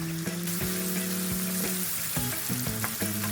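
Chopped onion and leek hit hot oil left from frying fish, giving a loud, continuous crackling sizzle with sharp pops and stirring clatter throughout, close up and with no voices.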